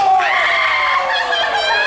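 A wrestler at a live wrestling event shrieks in pain after a chop, a loud sustained high-pitched scream that rings out over crowd noise for nearly two seconds.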